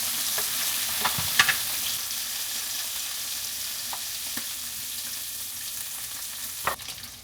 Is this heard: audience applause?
no